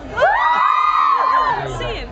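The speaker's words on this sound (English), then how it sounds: "If you say that, everyone screams." Festival crowd screaming, a loud sustained wave of high-pitched shrieks and cheers from many voices rising quickly and fading out after about a second and a half.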